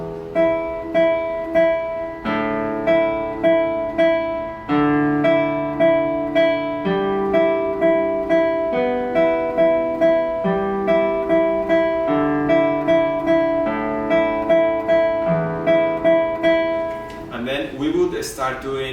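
Classical guitar plays a rapid tremolo on the first string while the thumb picks bass notes moving across the sixth down to the third string and back, giving a steady, rippling pattern of repeated treble notes over a pulsing bass line, close and clear.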